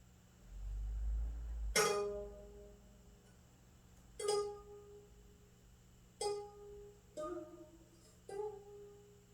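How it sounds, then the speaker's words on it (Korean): A plucked 12-string gayageum zither sounds a handful of separate notes, each with a sharp attack and a long ringing decay, fairly soft and unaccompanied. "지금 들으시는 소리는 12줄을 가지고 있다는 가야금 소리입니다."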